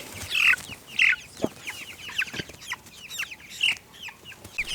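Backyard chickens cluck repeatedly in short, close bursts at a morning garden coop in Australia, with no talking over them.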